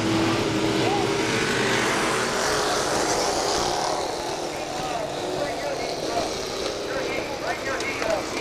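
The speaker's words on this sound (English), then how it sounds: "They'll pick up the throttle through turns 3 and 4. Green flag flies and we are racing." Pure stock race cars accelerating at Kil-Kare Speedway as the green flag drops, a loud blended roar of several engines swelling and fading across the field, with an announcer talking over it.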